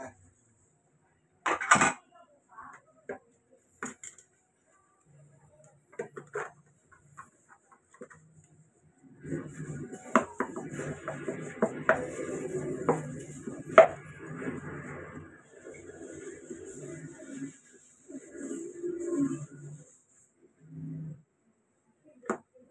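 Plates, spoons, forks and a cooking pot are washed by hand, with scattered clinks and knocks of dishware, water splashing and scrubbing in the middle stretch, and faint chicken clucks nearby.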